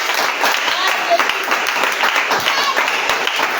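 A church congregation breaks into sustained applause and cheering for the Lord, steady and loud for several seconds, with voices mixed into the clapping.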